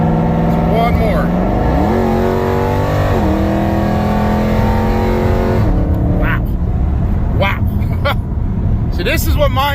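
A 1000hp Jeep Trackhawk launches on a street, its engine roaring loud and close as the revs climb and drop through gear changes, with voices inside the car.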